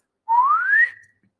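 A single pure sine-wave chirp sweeping smoothly upward in pitch for just over half a second, clean and isolated against silence, with a brief steady tail at the top.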